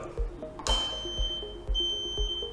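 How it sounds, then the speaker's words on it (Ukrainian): A DKU 100 RKh radio-wave diathermocoagulator (electrosurgical knife) gives a clear, steady high-pitched electronic beep that sounds continuously, with a quieter background of repeating low clicks. No talk. "Пролунає звуковий сигнал."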